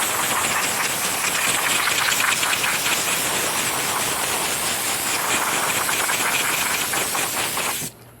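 Air compressor on a printer repair bench, blowing toner out of a Brother MFC printer's drum unit, a steady loud broadband rush of air that runs without a break and then cuts off near the end.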